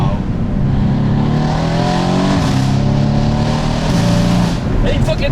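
A Mercedes-AMG C63s V8 accelerates hard through a tunnel, its loud, echoing engine roar climbing in pitch with shifts in between. The sound is close and continuous, with people speaking over it.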